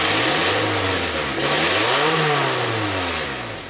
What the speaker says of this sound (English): And when it revs up, it sounds healthy.